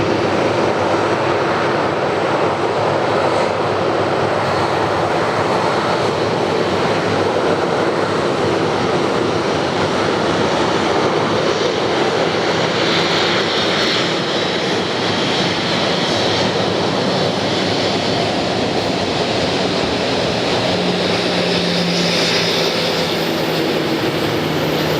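Delta Air Lines Airbus A330-300 arriving from Madrid at Atlanta, a continuous broad jet engine rumble and rush that holds steady and loud throughout, with slight tonal shifts as it passes.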